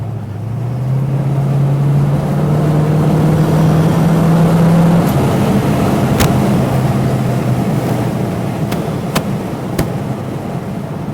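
A 1964½ Ford Mustang coupe with a 289 V8 and automatic transmission cruising on a freeway, its engine drone rising then holding a steady loud hum with road rumble, a few sharp clicks near the end.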